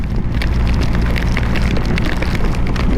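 Heavy rain pours on a motorcyclist riding through a downpour in Bulgaria. The rain roars loud and steady, with wind rush mixed in, and no one speaks.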